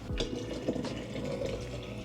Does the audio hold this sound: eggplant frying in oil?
no